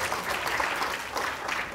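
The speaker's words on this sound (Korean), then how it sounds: "큰 박수로 맞이해 주시기 바랍니다" An audience at a science lecture claps to welcome a professor, a dense, even burst of applause filling the whole short moment without a break.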